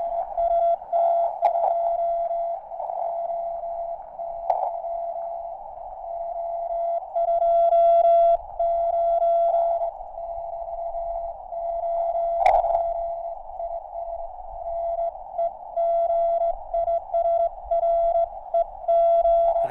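Morse code sidetone from an amateur radio station working an NVIS contact at Col d'Eze near Nice: a steady mid-pitched tone keyed into dots and dashes in continuous rhythm, loud and close, with faint static beneath.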